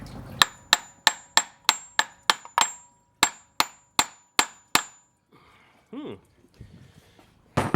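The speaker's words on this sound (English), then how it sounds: "using a brass hammer, kind of tap the water pump with the hammer to kind of break the seal" Brass hammer tapping a Lexus GS 350 water pump to break its seal: a dozen sharp, evenly spaced metallic clinks, close and crisp, followed by quieter handling noises and brief talk.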